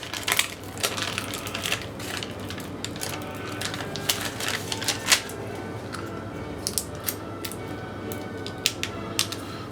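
Parchment paper being peeled off a cooled, room-temperature praline turtle cake, giving a steady run of dry crinkling and crackling with sharper tearing snaps, close and fairly loud with no talk.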